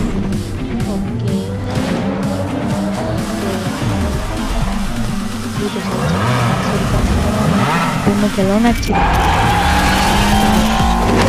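Ferrari race car in the Asphalt 9 mobile racing game, loud revving engine with rising and falling gear pitches, tire squeals and skids, plus game sound effects, while someone speaks briefly over it.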